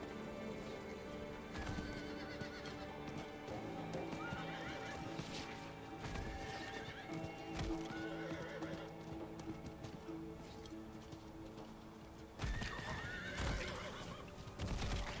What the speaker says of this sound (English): Use this horsey.